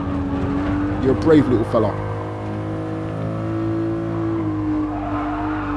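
Toyota Supra and Suzuki Swift race in Gran Turismo Sport, engines droning steadily with a brief burst of tire squeal, under someone talking.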